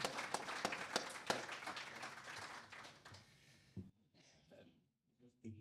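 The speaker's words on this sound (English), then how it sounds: "Can I get a round of applause for these guys?" Audience applause at a symposium on healthy aging, a brisk round of clapping from a room of people that fades after about three seconds, followed by scattered quiet noises and a few murmurs.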